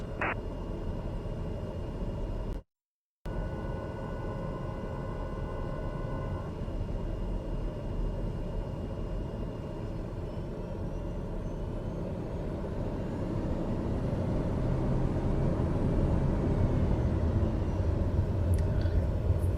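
Airliner taxiing to the gate in Flight Simulator 2020 at Los Angeles, a steady low engine rumble and hum that swells gradually louder, with one brief cut to silence early on.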